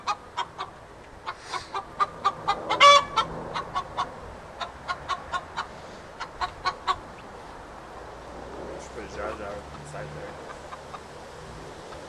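Chickens cluck in a coop with a nesting box, a series of sharp, rhythmic clucks close by, bunched in quick runs and then easing into quieter murmuring.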